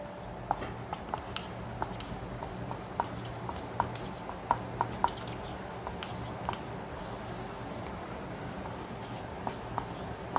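Chalk or marker tapping and scratching on a classroom board during a Hindi grammar lesson, in short irregular strokes and clicks at close range with steady room noise.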